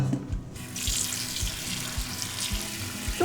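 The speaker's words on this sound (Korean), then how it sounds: "그 다음에 쪽파를 씻어 볼게요." Spring onions (scallions) are washed in a kitchen sink under running tap water. A steady, close rush of water continues throughout, with light splashing as the water hits the greens.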